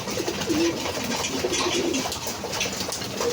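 Pigeons coo repeatedly at a feeder where the food has run low, soft throaty calls rising over steady background noise throughout.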